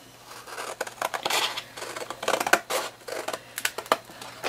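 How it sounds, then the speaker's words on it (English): Scissors cut a butterfly shape out of paper for mail art, a close series of crisp snips and rustles in uneven bursts with no talking. "So then at this point I can cut this butterfly out."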